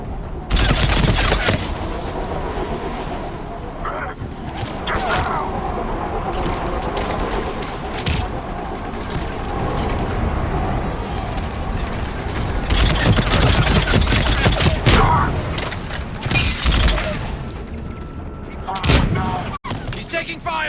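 Rapid video game gunfire, bursts of shots and automatic fire layered with booms in a loud, sustained firefight, with a voice shouting over it at times.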